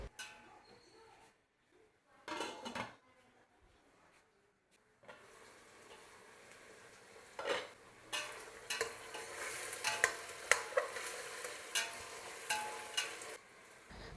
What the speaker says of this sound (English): Now I'll give it a good mix and then close the lid and cook until the veggies are half cooked.